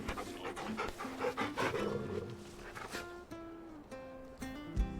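Torgal, the large wolfhound companion in Final Fantasy XVI, pants in quick rhythmic breaths close up, with game music tones and soft effects sounding underneath.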